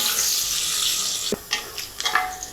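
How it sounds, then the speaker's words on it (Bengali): Chopped onion frying lightly in a pan for pressure-cooker grill chicken, a steady broadband sizzle throughout, with a few sharper spits and stirring clicks toward the end. "পেঁয়াজটাকে আমি হালকা ভেজে নিব"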